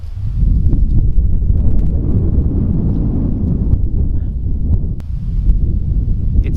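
Strong outdoor wind buffets the microphone in a low, steady roar near a road and small pond, with gusts swelling and easing throughout and no talking.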